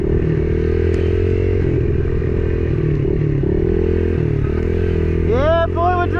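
A pit bike engine drones steadily close by during a dirt bike soccer game, holding a constant low rumble with a brief rising rev near the end.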